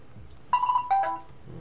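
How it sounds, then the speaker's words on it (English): A video game phone alarm gives two short electronic tones in quick succession, faint and clean over a quiet background. "And I'm getting alarms on the phone here."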